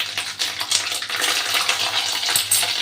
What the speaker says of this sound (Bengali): জিরেটাকেও আমি একটু তেলের মধ্যে ভালো করে নেড়ে নিচ্ছি।